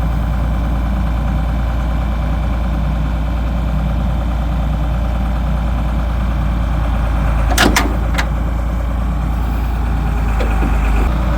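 An International TD-6 crawler, recently freed from a locked-up engine, runs in gas mode with a loud, steady low idle throughout, and a couple of sharp metallic clicks break in near the middle.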